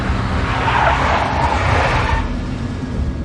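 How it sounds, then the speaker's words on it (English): Tires skid and squeal in a video game car chase involving a big black Mercedes in Max Payne Mobile, a loud sustained screech over engine roar that eases off toward the end. "A big black Mercedes."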